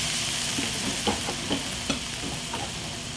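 Butter sizzling in a hot pan while scallops sear, a steady frying hiss broken by a few soft stirring clicks and pops.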